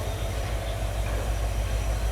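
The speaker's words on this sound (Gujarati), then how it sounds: "ચાલે એન્જોય કરીએ આપણે આજના બીસ્ટ ડીઝલ લોકોમોટિવને યાર" An EMD diesel locomotive hauling the Sabarmati Intercity Express out of Bhavnagar Terminus gives off a steady, heavy low engine drone with a constant mechanical rumble and no voices.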